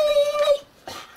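A dog gives a high, wavering whimper followed by a shorter whining yelp after a brief pause, close and fairly loud with no talking.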